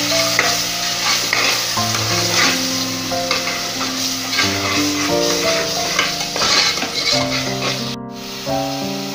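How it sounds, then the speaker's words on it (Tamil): Coriander biryani masala frying in a pan while being stirred, loud continuous sizzling with repeated scraping strokes of a spoon, close up and steady throughout, no voices. "இப்போ நல்லா கலந்துக்கோங்க."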